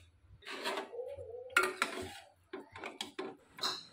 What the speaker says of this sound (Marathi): पूर्ण गुलाबजामुन पाकामध्ये घातलेले आहे.